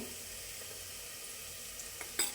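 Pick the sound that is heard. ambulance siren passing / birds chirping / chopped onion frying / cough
chopped onion frying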